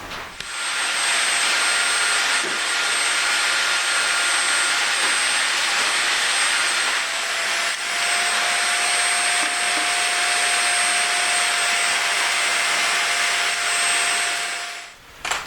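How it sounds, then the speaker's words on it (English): A vacuum cleaner hoovers inside a Honda NSX during a scuttle panel and wiper arm refresh, a loud steady whine with a constant motor tone running unbroken for about fifteen seconds before cutting off. "Let's do some hoovering."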